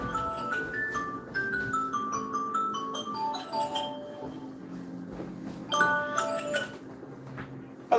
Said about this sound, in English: That's my second alarm for the other phone going off.